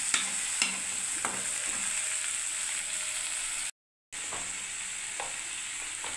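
Green chillies with turmeric and salt sizzle in a pan while being stirred, giving a steady hiss broken by soft scraping taps, with a brief silent gap partway through.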